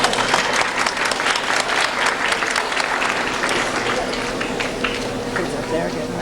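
Audience applause fills a high school awards ceremony hall, a dense, steady roar of many hands clapping that holds for several seconds with no speech over it.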